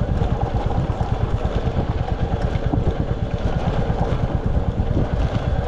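A motorcycle engine idles steadily on a rural road, a dense low rumble with rapid pulsing that stays loud and close throughout, with no talk over it.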